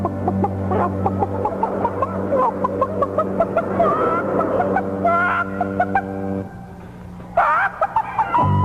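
Chickens cluck and squawk over a steady hum and background tones during a 1975 CBC radio comedy broadcast, with sharp bird calls repeating throughout.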